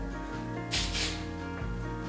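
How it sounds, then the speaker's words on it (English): Tresemme hairspray hisses from an aerosol can in two short bursts close to the microphone, followed by a faint third puff, over a quiet background hum. "Sometimes I'll take a little bit of hairspray. Just spray a little bit."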